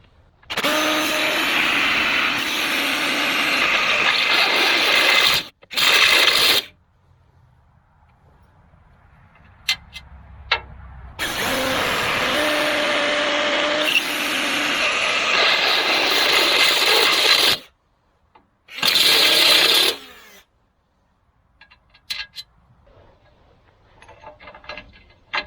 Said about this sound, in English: We'll drill these ones out.